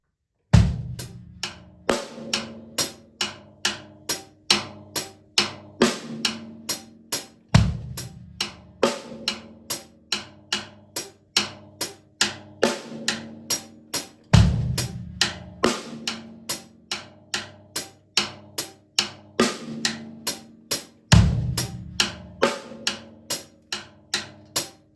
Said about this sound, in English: It's going to sound like this with a bass drum on the first beat.